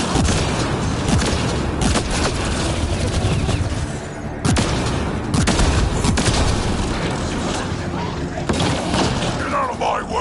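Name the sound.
rapid gunfire in a video game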